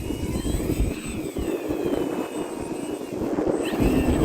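Arrows Husky Ultimate RC model airplane flying outdoors, a steady loud engine whine with a faint pitch sweep as it passes, over constant wind rumble.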